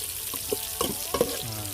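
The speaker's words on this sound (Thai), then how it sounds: "หลังจากโขลกกระเทียมกับ หอมแดงเสร็จแล้วนะครับ ก็นำหอมแดงส่วนหนึ่งมาผัด" Pounded shallots stir-fried in a little oil in a pot over low heat, with a steady soft sizzle and a few clinks of a utensil scraping and stirring, close up and with no voices.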